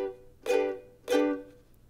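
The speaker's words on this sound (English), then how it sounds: "we're going to squeeze and immediately release the pressure so it creates something very staccato" Two short, muted ukulele chord strums are played staccato, each squeezed and quickly released so it cuts off instead of ringing. The strums are evenly spaced and close, with no talking.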